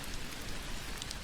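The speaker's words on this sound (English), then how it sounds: "All around you, rain falls." Steady rain plays as a sound effect during a tabletop role-playing game session, a dense, even hiss of many drops pattering on a surface, continuous and fairly loud with no voices.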